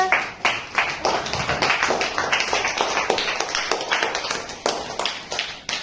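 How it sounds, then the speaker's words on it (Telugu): A group of people clap their hands in a steady run of quick, bright claps for several seconds, close and fairly loud with slightly uneven rhythm. "క్లాప్స్ కొట్టండి అందరూ"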